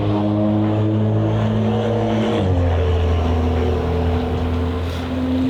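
A BMW M2 passes close by, its engine note loud and steady with a tonal drone that drops in pitch midway through as it goes past, then holds a lower hum.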